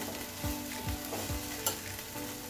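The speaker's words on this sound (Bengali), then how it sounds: "অল্প নাড়াচাড়া করে" Eggplant bharta being stirred in a pan as the oil separates, a low steady sizzle broken by three soft spatula scrapes and a brief clink near the end, no talking.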